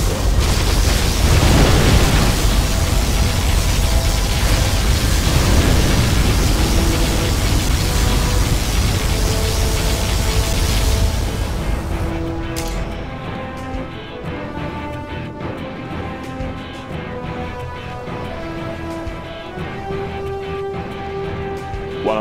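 Loud, sustained rumbling blast from a particle cannon in Command & Conquer Generals Zero Hour, a roaring explosive wash for about eleven seconds that cuts off into quieter game music and effects.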